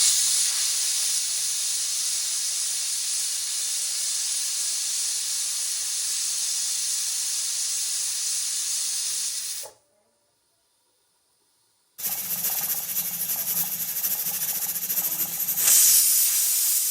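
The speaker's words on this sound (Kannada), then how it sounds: "ಕುಕ್ಕರ್ ಲಿಡ್ನ ಕ್ಲೋಸ್ ಮಾಡಿ ಒಂದು 3 ವಿಸಿಲ್ ತೆಗೆಸ್ಕೊಬೇಕಾಗುತ್ತೆ" Pressure cooker releasing steam through its whistle with a loud, steady, broad hiss that cuts out abruptly into silence, then a fresh rush of hissing steam starts up again.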